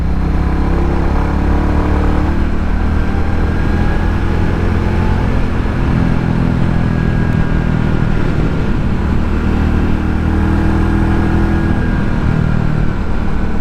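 A 2022 Royal Enfield Classic 350 single-cylinder motorcycle hums along through hilly corners, its steady low engine drone mixed with constant wind rush and no pauses.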